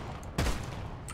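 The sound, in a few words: shotgun fire from the video game Deep Rock Galactic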